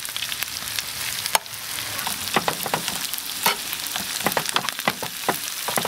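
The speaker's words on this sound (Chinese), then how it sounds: "好，准备炒这么多了。" Rice and glass noodles are stir-fried in a small pan, giving a steady loud sizzle broken by the scrape and clatter of stirring, heard alone with no talk.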